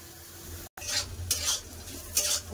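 Sliced bitter gourd sizzles in a pan on the stove, a soft, steady frying hiss broken by several bright scraping bursts as a spatula stirs the pieces.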